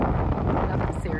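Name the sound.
wind blowing in Iceland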